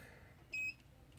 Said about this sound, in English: I heard a beep there.